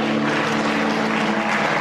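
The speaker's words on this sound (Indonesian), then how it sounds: "Yang merasakan hadirat Tuhan kasih tepuk tangan yang meriah." Sustained congregation applause during an Indonesian church worship service, a thick, loud, steady wash of clapping with a low hum beneath it, heard throughout.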